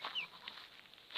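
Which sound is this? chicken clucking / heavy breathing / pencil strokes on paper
chicken clucking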